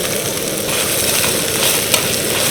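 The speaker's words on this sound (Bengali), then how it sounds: "নারকেল দিয়ে হালকা করে ভেজে নিলাম" Grated coconut sizzles lightly in a pan with spices, garlic and green chilli, a steady close frying hiss with soft stirring scrapes and no voices.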